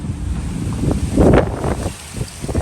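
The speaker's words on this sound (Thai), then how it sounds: "นี่ว้าพายุ" Strong summer storm wind gusting and roaring outdoors, a loud broadband rush that swells to a peak midway before easing into steady blustery noise, with no voices.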